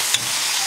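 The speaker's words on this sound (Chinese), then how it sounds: "炒出红油后放排骨翻炒均匀" Pork ribs stir-fry in a wok with chili bean paste, hotpot base and oil, giving a close, steady, hissing sizzle that fills the whole moment, with one faint clink near the start.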